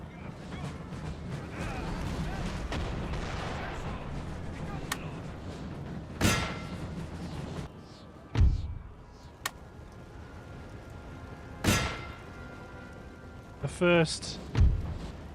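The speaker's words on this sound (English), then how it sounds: "shots are away" Artillery and musket fire in Napoleon: Total War, the battle game, comes as scattered loud booms and sharp cracks, some near and some distant. Between shots there is a low rumble of battle ambience, with someone talking over parts of it.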